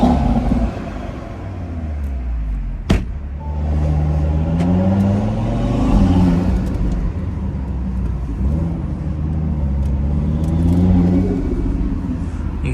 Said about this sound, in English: You hear the turbo flutter just because I do have a CTS intake.